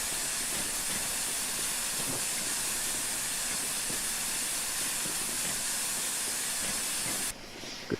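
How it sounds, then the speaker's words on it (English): Flying Scotsman steam locomotive in Train Sim releasing a loud, steady brake hiss that fills about seven seconds, then cuts off abruptly into quieter rumble. "Good to see its loco brake actually works."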